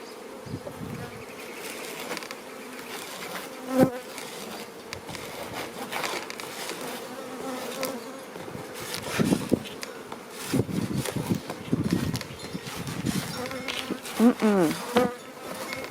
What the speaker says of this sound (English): I got an angry bee around me